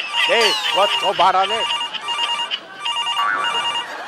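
A telephone rings insistently in a comedy sketch, its electronic ring repeating in a steady pulsing pattern at close range throughout, with voices talking over the first part.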